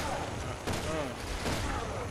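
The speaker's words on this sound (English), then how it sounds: "I'm shooting him in the booty hole." Gunfire from a weapon fired at an enemy in Resident Evil 6, a few sharp shots heard under talking during play.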